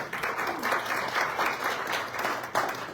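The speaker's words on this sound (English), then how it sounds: "Everybody give a round of applause." Steady applause from a sizable audience at a real estate event fills the whole stretch, a dense wash of clapping at an even level.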